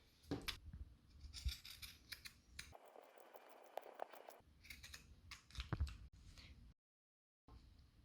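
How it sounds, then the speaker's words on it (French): Quiet, close snipping of pinking shears trimming fabric at a seam, a series of crisp cuts with brief pauses and a short silence near the end. "on va pouvoir dégarnir un petit peu à l'aide de ciseaux cranteurs"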